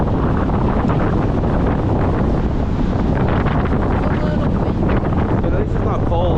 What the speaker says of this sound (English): it's windy because it's blowing the storm away